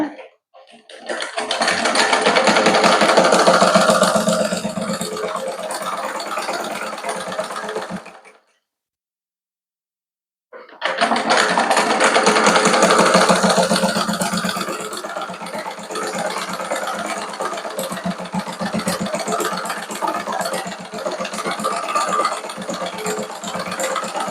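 A sewing machine runs steadily while stitching an elastic nightie, its loud, continuous mechanical rattle stopping for about two seconds before resuming and running to the end.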